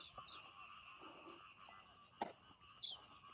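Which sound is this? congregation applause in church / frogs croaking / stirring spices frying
frogs croaking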